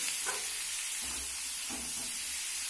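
Kohlrabi and potato fry in a pan while being stirred, a steady close sizzle and hiss broken by several scraping strokes of a spoon against the pan.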